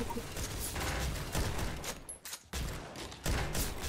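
Bursts of M249 machine gun fire in the video game Surviv.io, rapid rattling volleys that stop briefly and then resume, loud and dense with no voices.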